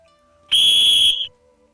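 A single loud, shrill whistle blast lasts under a second and cuts off sharply, heard alone in a quiet space.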